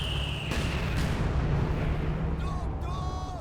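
Mortars fire in Company of Heroes 2 during a 1v1 match: a steady barrage of booming thumps and blasts, one landing right after another, loud and dense, with a voice talking faintly underneath.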